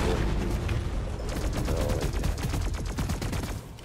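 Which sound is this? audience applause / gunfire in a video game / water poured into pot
gunfire in a video game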